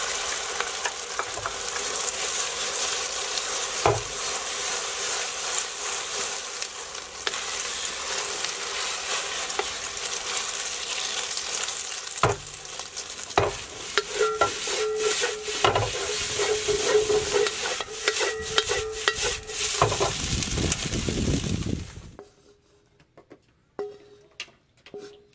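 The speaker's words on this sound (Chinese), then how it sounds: "先炒鸡蛋，" Eggs fry in a wok in a farmhouse kitchen, a loud continuous sizzle with frequent clattering stirs and scrapes, cutting off abruptly near the end.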